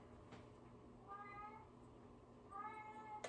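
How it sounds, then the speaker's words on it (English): A house cat meows twice indoors, faint drawn-out calls spaced about a second apart over a low background hum, with no one talking. "And that's my cat meowing, if you can hear her."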